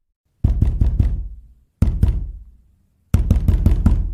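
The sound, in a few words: loud banging on a dormitory door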